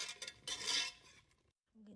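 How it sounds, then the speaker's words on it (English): A utensil clinks and scrapes against a pot while salted caramel is stirred with cubes of butter, a few close metallic taps and swishes, then a short pause and a low sound. "You have to keep stirring."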